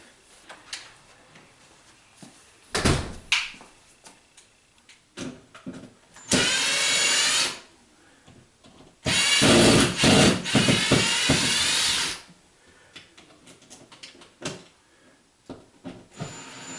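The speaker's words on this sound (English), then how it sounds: "Let me get my drill." Power drill driving out screws from electrical outlets during a home renovation, several short whirring bursts then two longer sustained runs, separated by quiet handling noises, close and loud.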